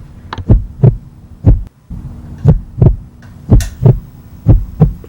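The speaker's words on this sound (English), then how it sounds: "the beating of his heart grew louder" Loud, close heartbeat thumping in steady lub-dub pairs, about eight beats, deep and booming over a low hum.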